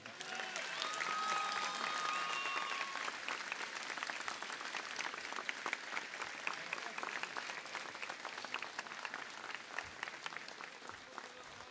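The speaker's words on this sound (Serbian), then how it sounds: "poziva vas da ih pozdravimo snažnim aplauzom" A large audience at a ceremony in Cetinje claps continuously for about eleven seconds, full and sustained at first, then thinning slightly toward the end.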